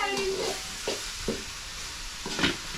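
Tomato and onion fry in a pan with a steady sizzle, broken by a few short scrapes and clinks of stirring close by.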